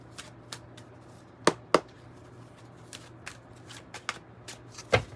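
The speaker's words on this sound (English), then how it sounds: "Let's give it a good shuffle." A few sharp, riffling bursts of tarot cards being shuffled, close and crisp, separated by quiet gaps with soft handling noises.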